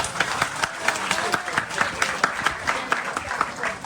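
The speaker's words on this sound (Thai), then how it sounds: "พวกเราปรบมือให้กับอาจารย์หน่อยครับ" A crowd claps steadily in a continuous, dense applause that fills the clip at moderate loudness.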